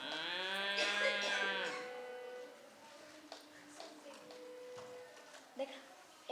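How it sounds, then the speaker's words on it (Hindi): A cow gives a long, loud, drawn-out moo at the start, followed by fainter lowing and scattered knocks while people talk nearby. "ये गाय ही है"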